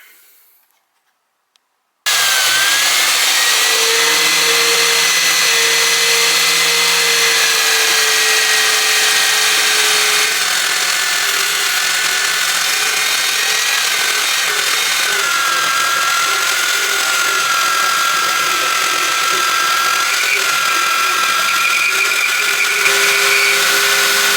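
A Chinese-made metal bandsaw cuts through metal clamped in a vise at its lowest blade speed. After a brief silence it starts up and runs as a loud, steady whine with a constant grinding hum, close by and alone.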